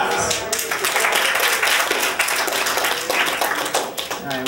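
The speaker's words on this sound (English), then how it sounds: "Round of applause." An audience at a comedy or talk event breaks into applause, a full burst of clapping that swells and fades over several seconds with scattered voices mixed in.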